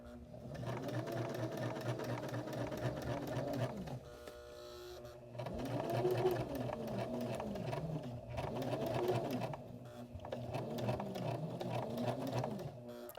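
A sewing machine stitches an upcycled shirt in several runs, a steady rapid needle chatter with a motor hum that pauses briefly near the four- and ten-second marks before resuming, close and moderately loud.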